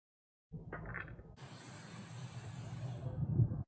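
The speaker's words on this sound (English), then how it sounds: "Now that that's sizzling" A steady, close hiss of diced jalapeños sizzling in a hot pan over a wood fire, starting with a few rattling clicks before the bright crackle settles in.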